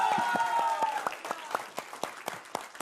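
Studio audience applauding on a Hindi television debate show, a dense burst of clapping that thins into scattered, separate claps toward the end, with faint voices underneath.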